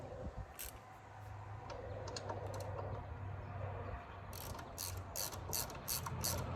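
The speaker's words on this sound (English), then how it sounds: "I'm gonna have to give me a new 3/8 ratchet. This one don't lock on the extensions at all." A 3/8 ratchet works bolts loose during a Harley radio upgrade, giving a steady rapid clicking with sharper bursts of fast ratcheting near the end, close and clear with no talk.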